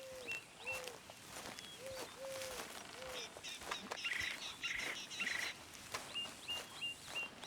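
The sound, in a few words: birds chirping in the video game Red Dead Redemption 2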